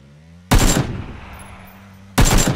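Two loud, sharp gunshots in PUBG ring out about a second and a half apart, the first trailing off in a rumbling echo.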